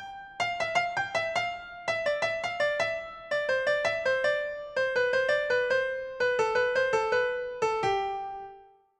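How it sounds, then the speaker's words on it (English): The Christmas carol Ding Dong Merrily on High played as a clear melody of struck, bell-like tones, the short pattern repeating in descending steps, each note ringing and decaying in a steady rhythm, alone with no talking. "You may recognise this well-known example of sequence from the Christmas carol, Ding Dong Merrily on High."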